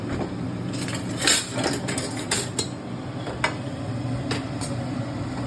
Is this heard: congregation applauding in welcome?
no